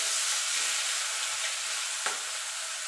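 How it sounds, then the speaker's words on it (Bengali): Prawns sizzle in hot oil with a constant bright hiss, with a single soft scrape of a spatula partway through as they are stirred. "চিংড়িটা ভালো করে নাড়াচাড়া দিয়ে নেব তেলের সঙ্গে।"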